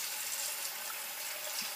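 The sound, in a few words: tap water filling a sink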